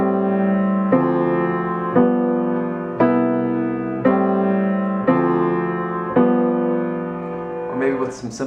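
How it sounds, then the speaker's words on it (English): Piano chords change about once a second in a steady four-chord I-vi-ii-V cycle, roots in the left hand, thirds and sevenths in the right, each struck cleanly and held, moderately loud and close, with a brief flutter of sound at the end. "Here's what it would sound like with roots in the left hand and thirds and 7ths in the right hand."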